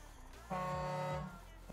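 A deep, steady Iveco 190-48 truck air horn in Farming Simulator 19 blares once for under a second, loud and sustained with a rich tonal buzz over a low engine rumble.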